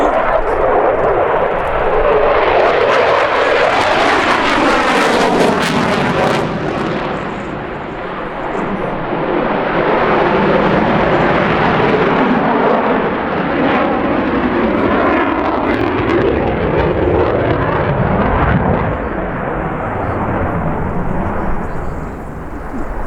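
A Swiss Air Force F/A-18 Hornet jet roars loudly overhead during an airshow display, its engine noise swelling and fading as it flies a high angle of attack barrel roll.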